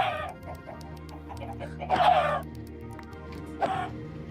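Chickens clucking and squawking as a sword strikes them in Minecraft played in VR, with two sharp bursts of hit noise standing out over a steady game backdrop.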